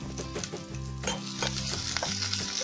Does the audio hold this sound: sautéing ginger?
yes